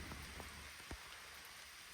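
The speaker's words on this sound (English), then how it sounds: "I'm sure you can probably hear now it's now raining." Rain falls steadily with a broad, even hiss, with occasional heavier drops tapping nearby.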